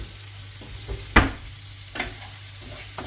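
Onions sautéing in a home kitchen pan before a handful of cashews go in, with a steady low sizzle and a few sharp scraping stirs at irregular intervals, close and alone without talk.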